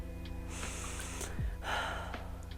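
Deep breaths heard close up over a steady low hum: a long drawn inhale, a brief sharp sniff partway through, then a full breathy exhale.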